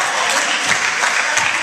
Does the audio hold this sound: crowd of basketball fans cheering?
yes